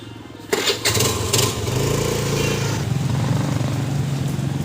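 A motorbike engine starts up and settles into a steady, close running drone with a low rumble throughout, no voices.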